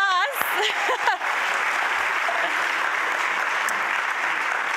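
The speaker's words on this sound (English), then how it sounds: "So please give a big round of applause." Audience applause at a 2024 State of the County Address held at Southwestern Community College, opening with a few vocal whoops and cheers, then settling into steady, dense clapping that continues evenly to the end.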